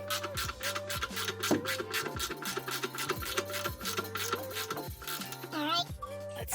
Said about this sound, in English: take our socket and our ratchet and go ahead and tighten it down